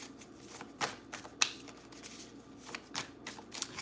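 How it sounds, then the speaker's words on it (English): Tarot cards shuffled by hand at close range, soft papery riffles and light taps coming in irregular bursts, quiet, with no talking. "Let's pull another one of these cards real quick, and we're going to get into the tarot."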